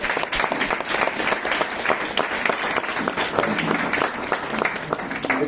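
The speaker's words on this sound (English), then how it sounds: "So I want a big round of applause for John." Seminar audience at a stock exchange open house breaks into sustained, dense applause, steady and loud throughout with no voices rising above it.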